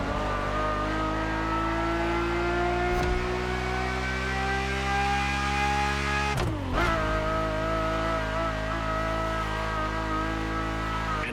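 A Ferrari supercar engine from The Crew Motorfest, heard from inside the car, drones steadily and rises in pitch, drops briefly at a gear shift, then climbs again, loud and continuous with no talking.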